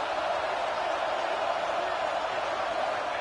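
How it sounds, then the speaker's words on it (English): Steady, loud broadband roar of a stadium crowd at a college football game, Texas Tech versus Ohio State, sustained and even throughout with no distinct peaks or breaks. "Listen to the crowd energy here in the early going."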